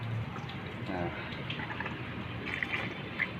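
Water being poured into a car radiator, a continuous close gurgling, splashing fill that runs the whole time with no break.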